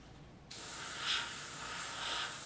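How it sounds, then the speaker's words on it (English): A paint sprayer loaded with a fleshy brown color hisses steadily for about two seconds after a quiet start, a smooth close spray with slight swells in intensity and no talking. "And it's spraying pretty smoothly."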